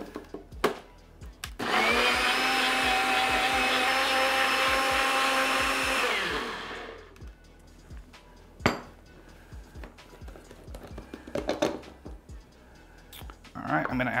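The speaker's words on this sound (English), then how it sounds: "the lid's gonna go on and then we blend it up" A countertop blender whirs loudly for about five seconds blending vegan buffalo sauce for cauliflower tacos, then winds down, surrounded by clinks of the jar and lid and a person talking.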